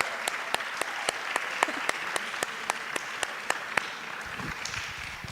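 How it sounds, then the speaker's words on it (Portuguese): Applause at the close of a day of an urban art and printing event, with a few sharp, evenly spaced claps standing out over a softer crowd clapping, fading near the end. "Uma salva de palmas para eles também."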